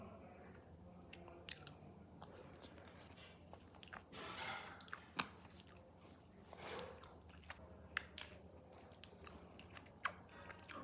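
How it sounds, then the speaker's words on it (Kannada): Quiet close chewing of cooked black rice, soft wet mouth sounds with occasional sharper clicks and smacks repeating steadily over several seconds, no talking. "ಟೇಸ್ಟ್ ಮಾಡ್ತಾಯಿದ್ದೀನಿ ಬ್ಲ್ಯಾಕ್ ರೈಸ್ನ, ಹೆಂಗಿದೆಯೋ ಗೊತ್ತಿಲ್ಲ."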